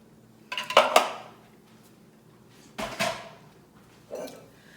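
Clam, garlic and juice mixture stirred in a pan, with three bursts of utensil scraping and clinking against the pan, the first longest, separated by quiet gaps.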